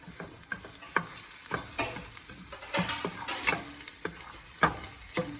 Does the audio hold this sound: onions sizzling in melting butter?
yes